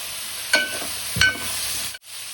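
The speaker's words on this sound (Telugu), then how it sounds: "ఇప్పుడు ఉల్లిగడ్డలు వేసుకోవాలి" Chopped onions sizzle in a pot of spiced lentils with bottle gourd while a spoon stirs. Two scraping strokes rise over a steady frying hiss, close up with no talk.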